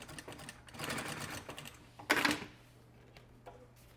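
A sewing machine stitching a leather wallet runs in a quick close whir, followed by a sharp mechanical clatter and then quiet.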